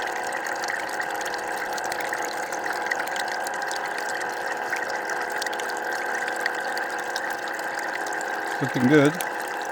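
Water runs steadily through a gutter sluice washing black sands for gold, a constant close splashing flow with a brief spoken remark over it near the end.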